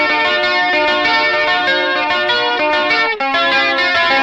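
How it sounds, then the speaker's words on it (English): Electric guitar played through a $12 Kmise mini analog chorus pedal, ringing sustained chords with a lush shimmering wobble, loud and continuous with a brief dip near the end before the strum resumes. "I don't know what a good analog chorus sounds like"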